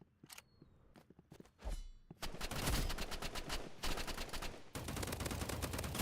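Video game gunfire in a Rivals arena match: a few sparse shots and clicks at first, then dense, loud bursts of rapid automatic fire that rattle on almost continuously, pausing only briefly, with no talking.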